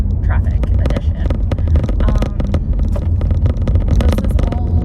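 Inside a car crawling through Thursday afternoon rush hour traffic: a loud, steady low road and engine rumble fills the cabin throughout, with scattered clicks and rattles.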